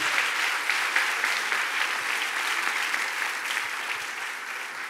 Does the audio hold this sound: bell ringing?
no